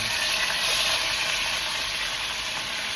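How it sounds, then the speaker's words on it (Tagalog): Steady, hissing sizzle of meat frying in hot oil in a pan, close and continuous without any talking. "Una natin i-prito itong ating mga karne."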